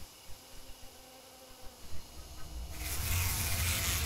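Bees buzz steadily near a giant beehive in the game Spirit Hunter: Death Mark. The drone is soft at first, then swells into a loud, dense hum.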